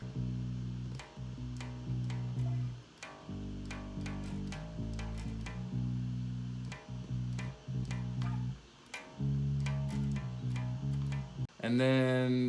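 Bass line tracing the chord root notes with small added flourishes, played as a steady repeating low pattern with brief gaps, ending in a short rising run.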